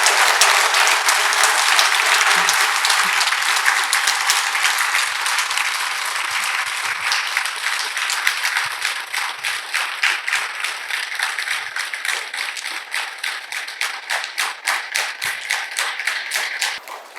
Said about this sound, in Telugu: వాళ్ళకు ఒక్కసారి గట్టిగా చప్పట్లు కొడదామండి.